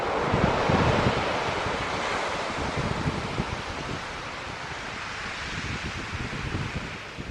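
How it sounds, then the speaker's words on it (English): Powerful sea waves surge and break on the beach between Loe Bar and Porthleven in Cornwall, a continuous loud wash of surf mixed with wind buffeting the microphone, with no voices. "the outgoing wave just comes back with such ferocity that it almost undoes the energy of the new wave"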